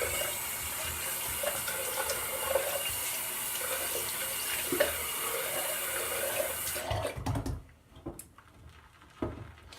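Tap water running steadily into a sink while a face is rinsed after shaving, a continuous close splashing hiss that cuts off near the end, leaving a few drips and small splashes.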